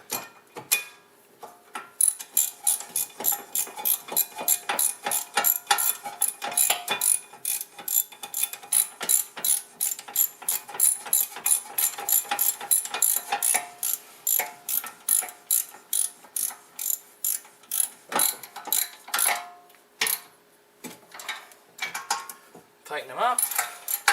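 A wrench ratchets steadily while tightening rear brake bolts on a 2004 Mazda 6, giving a long run of close, rapid clicks with short pauses between strokes.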